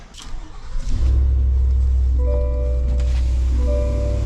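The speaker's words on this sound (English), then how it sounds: "Have them bring that Corvette right inside here." A Seawolf Gray Chevrolet Corvette Z06 with the Aero package starts up indoors in a car dealership showroom, its engine catching with a rising blip and then settling into a loud, deep, steady idle rumble.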